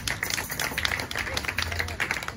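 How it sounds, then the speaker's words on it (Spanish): A church congregation applauds with quick, dense, uneven clapping that carries on steadily, with a voice talking over it. "El aplauso, Señor, hermano."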